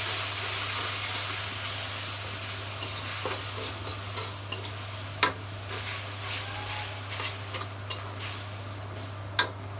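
A ground paste of garlic, green chili and onion fries with shrimp in a pan, giving a steady soft sizzle with scraping stir strokes and a few sharp clicks, under a constant low hum.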